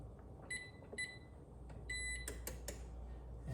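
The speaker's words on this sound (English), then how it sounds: "So I'm going to preheat my oven here" An oven control panel sounds a few short, high electronic beeps in a quiet kitchen while being set to preheat to 375, followed by soft button taps.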